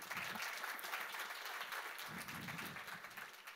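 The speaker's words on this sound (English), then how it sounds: "So please give Lex a round of applause" Conference audience at a tech talk applauds as a speaker is introduced, a faint, distant wash of clapping that stays even for a few seconds.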